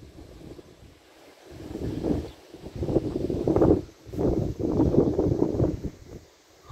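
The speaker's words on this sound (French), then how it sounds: "Purée, le vent!" Strong gusting wind ahead of a morning thunderstorm near Grenoble in the Alps roars against the microphone in surges, rising and falling in loud buffeting waves with brief lulls between them.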